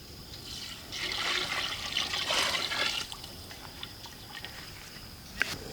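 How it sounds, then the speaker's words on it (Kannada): Water is poured from a vessel into a pot of rice for village-style Karnataka mutton biryani, a soft splashing trickle lasting a couple of seconds, then quieter dribbles. "ಅದಕ್ಕೆ 3 ಚಂಬು ನೀರು ಹಾಕೊಳ್ಳೋಣ"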